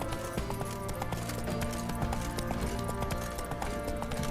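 Roach, a horse in The Witcher 3 game, gallops in steady rhythmic hoofbeats over a dense layer of game music and ambience.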